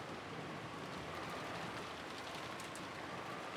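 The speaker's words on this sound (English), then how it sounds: "The rain poured down as though we had been saving up for this moment." Rain sound effect from the Umineko visual novel, a dense, even hiss of falling rain, soft and continuous with no voices.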